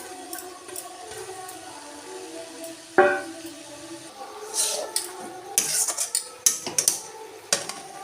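Ground spices being stir-fried in a pan for spinach dal, heard as faint sizzling under intermittent metal spatula scrapes and clanks against the pan, loudest in bursts toward the end, with no talking.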